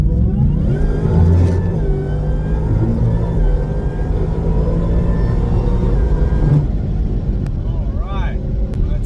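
Roush supercharged Ford Mustang S650 accelerating on an open road, a steady loud engine drone with rising harmonics filling the whole stretch, heard from inside the car.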